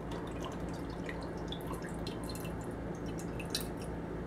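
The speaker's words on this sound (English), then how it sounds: "The first thing I'm going to add is 6 ounces of pineapple juice." Pineapple juice, about six ounces, pours quietly into a container for chicken and steak nachos, a soft steady trickle with small dripping splashes throughout, faint and close, without any talking.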